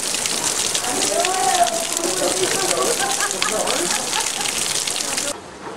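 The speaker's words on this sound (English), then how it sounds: "Okay, squall line just passed through. We did have some hail with it." Heavy rain from a passing squall at Stone Mountain, Georgia, a dense, steady roar of drops hammering surfaces with scattered sharper hits that fit hail, while people talk excitedly beneath it.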